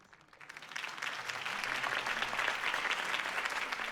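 A crowd cheers and claps after a campaign rally speech in a Batman adventure video game, the applause swelling from quiet to a sustained, dense roar of many hands.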